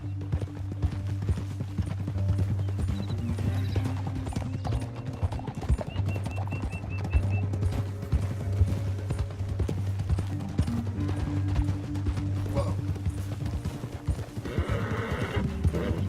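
Steady clip-clop of horse hooves running through the whole stretch, with a steady low hum and scattered clatter beneath, and a brief whinny near the end, in the video game Red Dead Redemption 2.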